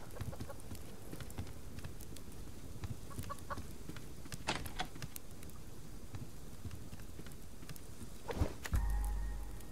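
Farmyard chickens cluck softly and intermittently in the survival game Subsistence, with scattered footsteps and small clicks over a quiet ambient background and a brief louder bump near the end.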